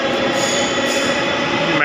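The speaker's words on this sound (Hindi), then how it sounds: "और ये मेट्रो चल पड़ी" A Delhi metro train pulling out of Laxmi Nagar station, heard from the platform as a steady, loud rolling rumble and hiss that continues throughout, with no speech.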